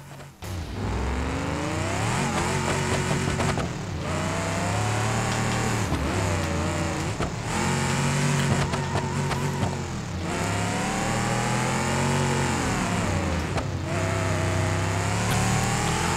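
A car engine in BeamNG Drive revs continuously and loudly, its pitch rising and falling in repeated surges as the vehicle accelerates and eases off.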